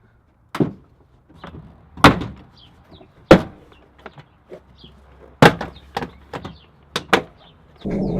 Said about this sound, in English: And then we could go ahead and pry this door off from its clips.